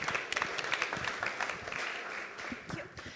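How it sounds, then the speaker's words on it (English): An audience at a startup showcase gives a short round of applause to welcome the next startup to the stage, light scattered clapping of moderate loudness with some voices mixed in. "let's welcome them with a round of applause"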